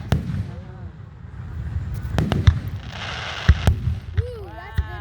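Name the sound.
fireworks show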